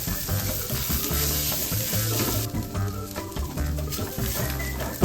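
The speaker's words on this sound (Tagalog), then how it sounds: "magigisa muna tayo ng mantika" Food sautés in hot cooking oil on a gas stove, a loud, steady sizzle and crackle close by with stirring clatter underneath, continuous throughout and without talk.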